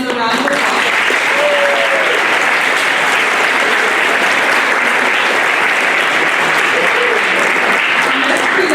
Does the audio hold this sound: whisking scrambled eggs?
no